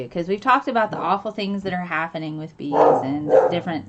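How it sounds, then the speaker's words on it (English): A dog barks a few times nearby, the barks blending into continuous talking that runs over them. "That's my dog"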